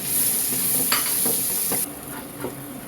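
Sliced onions hit oil over browned garlic and fry with a strong, continuous sizzle, broken by a few scraping stirs; the hiss drops slightly partway through as they settle into the pan.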